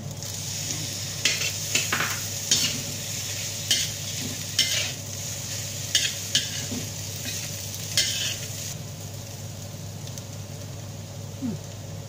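Pineapple being stir-fried into fried rice in a hot pan, with a steady sizzle under repeated rhythmic scrapes and clinks of a spatula against the pan, close and fairly loud, no voices.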